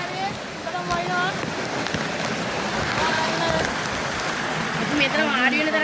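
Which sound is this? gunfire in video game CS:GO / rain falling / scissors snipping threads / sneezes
rain falling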